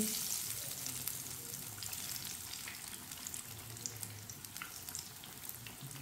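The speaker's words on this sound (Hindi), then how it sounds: "टिक्कियों को 2 मिनट के लिए पकने देते हैं। चूल्हे की आंच को मैंने कम रखा है।" Aloo tikki patties fry in a little oil on a low flame, giving a steady, close sizzling hiss with small crackles and pops throughout, and no voices.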